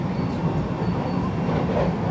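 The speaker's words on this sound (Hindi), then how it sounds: "हमारी ट्रेन आ रही है प्लेटफॉर्म 32 पे," A train pulls into platform 32 at a Kyoto station, a steady rumble of wheels and carriages rolling close by, with no talk.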